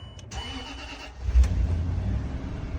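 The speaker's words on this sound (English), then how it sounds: "Key in the ignition. Everything's starting up." A Land Rover LR3 engine cranks for about a second after the ignition key turns, then catches with a low thump and settles into a steady, close idle. The start comes just after a fuel sending unit replacement.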